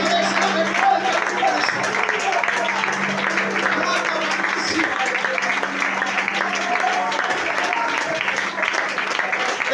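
Church congregation clapping through a sermon in an evening worship service, a steady, full wash of applause lasting several seconds with voices mixed in and a low electrical hum underneath.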